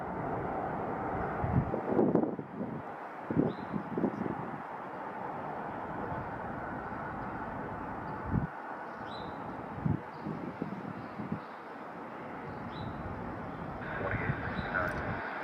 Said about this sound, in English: Looks like we got a United Express Embraer E175.